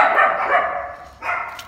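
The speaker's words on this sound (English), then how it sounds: "She's a miniature schnauzer, and her bark is so loud." A miniature schnauzer barks loudly and close by, giving a sustained bark and then a second burst after a short dip, with no talk over it.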